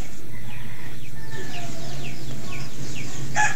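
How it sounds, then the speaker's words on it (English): Small chicks chirp in a quick run of high, thin peeps over a steady low hum and background noise, moderately close and fairly faint. "There's a small chicks around. I heard them."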